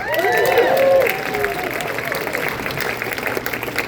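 A comedy club audience claps and cheers, loud at first and then settling into steady applause with scattered whoops and voices.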